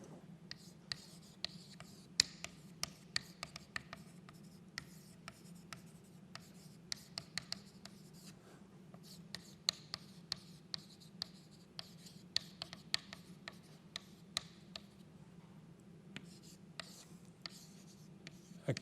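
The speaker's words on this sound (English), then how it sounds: "Let me write this down." A pen writes by hand on paper during a meeting, soft scratchy strokes punctuated by sharp little taps, close and quiet, with no talking.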